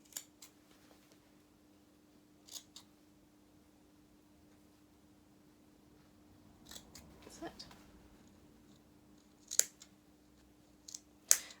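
Scissors trimming the fabric seam allowance on a small doll jacket: sparse, quiet snips scattered across a near-silent background, with a couple of sharper clicks toward the end.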